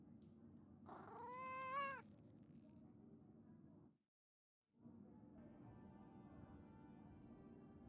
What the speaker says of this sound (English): Oh, a cat and a mouse.